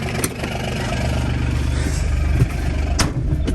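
Farm tractor engine idling with a steady low rumble close by, punctuated by a few sharp clanks and knocks; no one speaks.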